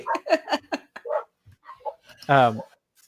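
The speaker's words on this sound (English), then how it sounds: "Sorry, dog's barking." A dog barks a few times close by, with a loud, harmonic bark standing out near the end between stretches of speech.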